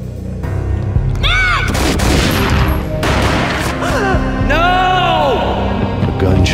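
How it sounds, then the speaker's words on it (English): Booming gunshots burst out repeatedly amid sweeping whooshes and screeching effects, loud and close, in a dense, chaotic mix of action sounds from the PC game Max Payne. "Gunshot boomed and she fell down in slow motion."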